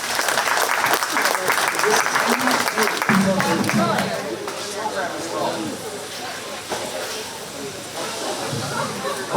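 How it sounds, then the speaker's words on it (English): Crowd applause for exhibitors at a 4-H swine show at a county fair, loud and dense at first, then thinning into scattered clapping under a voice on the public address. "please give all those exhibitors a big round of applause"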